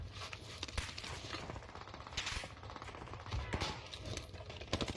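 Gunfire in an online army shooter game comes as dense, quick bursts of shots with a busy, continuous clatter under faint background sound.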